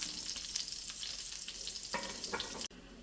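Garlic cloves frying in a pan ahead of cooking clams, a close steady sizzle and crackle with a few louder spits near the end, no talking.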